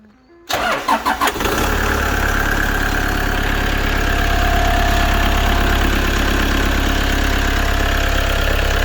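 A Toyota Hiace van engine with 720,000 km cranks a few times, catches, then settles into a steady, loud idle that runs on without any voices.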